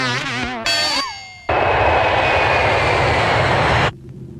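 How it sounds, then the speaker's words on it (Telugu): An airplane's engines roar loudly and steadily during takeoff for about two and a half seconds, then cut off abruptly; a few brief tonal sounds come first. "Cabin crew, please return to your seats for takeoff."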